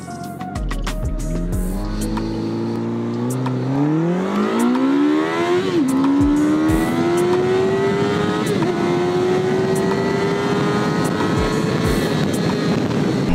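A motorcycle engine revs up and climbs steadily in pitch, then holds a loud, constant drone under heavy wind buffeting, as heard from a phone tucked in the rider's jacket.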